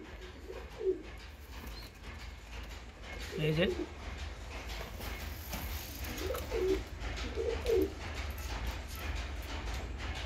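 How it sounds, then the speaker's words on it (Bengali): A super-quality Malbai pigeon chick coos several times in soft, low bursts, with someone talking over and between the calls. "এটা আমার একটা মালবাই পায়রার বাচ্চা, সুপার কোয়ালিটি"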